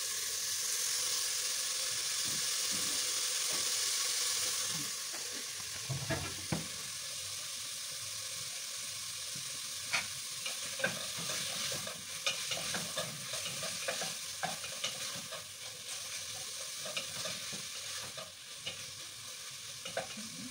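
Beans and meat being stirred in a sizzling pan, with a steady frying hiss and repeated scraping, clinking strokes of the spoon, close and fairly quiet, with no talking.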